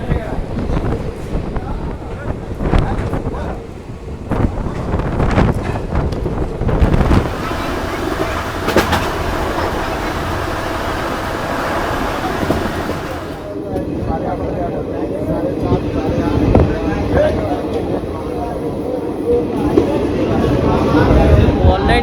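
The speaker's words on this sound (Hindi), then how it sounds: "चलिए 2 मिनट होल्ड के बाद डिपार्चर चुका अपनी बैरगनिया रेलवे स्टेशन से" The Raxaul Howrah Express departs Bairgania station: a loud, continuous rumble of rolling wheels and clatter with wind buffeting the microphone, steady throughout with shifting texture as the train moves.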